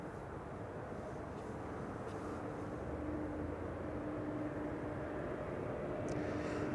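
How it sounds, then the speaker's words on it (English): A KLM Embraer 190 jet arriving at Amsterdam Schiphol from Hanover makes a soft, distant, steady engine roar with a faint tonal whine that rises slightly as it goes on. "an Embraer 190 arriving from Hanover in Germany"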